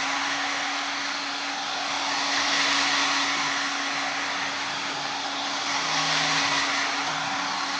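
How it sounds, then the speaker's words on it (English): A hair dryer blows steadily over re-coloured leather, a loud, continuous close-up rushing hiss with a constant motor hum that barely changes throughout. "We're now going to actually use the hairdryer and dry that all over."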